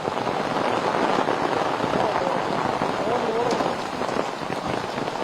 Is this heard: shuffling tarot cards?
no